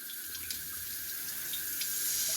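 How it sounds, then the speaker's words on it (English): A stainless steel bidet attachment running at its highest setting, a steady, forceful hiss of spraying water that holds loud and close throughout with no speech. "As you can see, there's a lot of force there."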